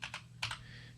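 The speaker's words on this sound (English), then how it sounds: "I'm going to type in ice cream" A few quick keystrokes on a computer keyboard, close and quiet, tapping in two short clusters with no talking.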